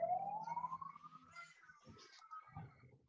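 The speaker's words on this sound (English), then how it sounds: "sorry, there's just a siren." A siren passes outside, its rising wail carrying through faintly and fading during a quiet moment indoors.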